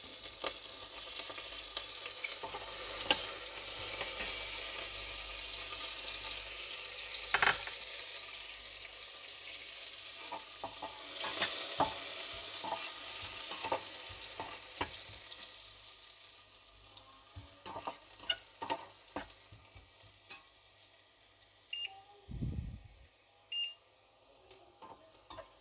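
Chopped garlic sizzles and fries in a pan while a utensil stirs it, a steady crackling hiss broken by scraping knocks and a few louder clatters near the end, with no talking.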